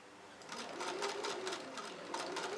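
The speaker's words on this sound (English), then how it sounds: "I'm going to show you guys the setting of my machine later, but it's on a zigzag stitch" A sewing machine running a zigzag stitch while making a fringe wig, a steady close whirring with a fast rhythmic needle chatter that rises slightly in pace, alone and fairly quiet.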